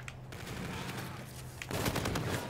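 Rapid automatic gunfire from a weapon in Infinite Warfare, dense bursts of shots starting at once and growing louder near the end, close and continuous with no talk over it.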